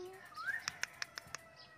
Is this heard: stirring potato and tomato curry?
no